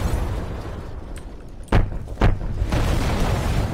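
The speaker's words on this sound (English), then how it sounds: "it's very nice explosion" Two sharp, heavy explosions in the Call of Duty: Modern Warfare Remastered campaign, about half a second apart, burst over a steady low rumble of background noise.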